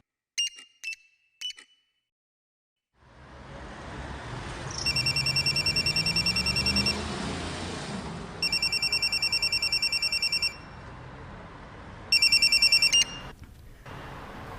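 A telephone rings for a call in a home, sounding in repeated bright electronic bursts with pauses between them, loud and close, after a few short clicks and a quiet stretch at the start.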